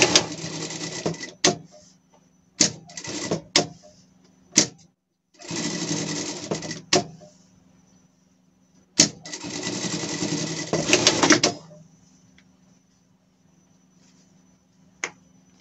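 A sewing machine stitches an appliqué onto a Paw Patrol Chase costume, running in several close bursts of steady buzzing, some short and some several seconds long, separated by pauses and small clicks.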